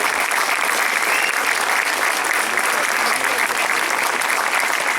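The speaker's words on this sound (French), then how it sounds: "On peut vraiment l'applaudir parce qu'il nous a fait une belle réalisation." Sustained, loud crowd applause at the outdoor unveiling of a statue of Saint Mesrop Mashtots in Alfortville, a dense, even wash of clapping that holds steady throughout.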